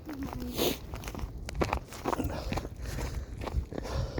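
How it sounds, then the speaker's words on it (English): Footsteps crunching along a winter woodland trail mixed with close chewing on a menthol cough drop, an irregular run of soft crunches and steps heard up close. "I'm chewing on a cough drop."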